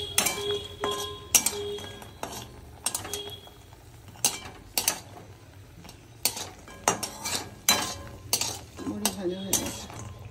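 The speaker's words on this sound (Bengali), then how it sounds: "বড়িটাকে ভেজে নেবো ভালো করে।" Lentil dumplings (bori) frying in a pan, stirred with a utensil that scrapes and clinks against the metal in repeated sharp strokes over a low steady background, with only a faint sizzle.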